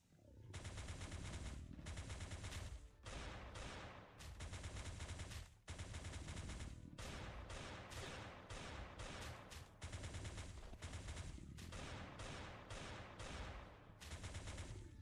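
Sustained automatic gunfire from the Resonator weapon in the survival game Last Day on Earth, during a hard-mode lab clearing at the port: loud, dense bursts of rapid shots with only brief pauses between volleys.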